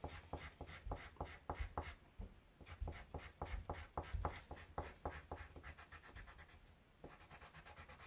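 Colored pencil scratching across grey paper in quick repeated downward shading strokes, close and fairly quiet, a steady rhythmic rasp with brief pauses between bursts.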